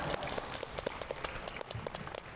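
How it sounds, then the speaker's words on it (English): An audience at a book fair talk applauds the panel of six, a moderately faint patter of clapping hands with distinct individual claps, fairly even and brief in a large room. "Please join me in giving all the 6 panelists a big round of applause."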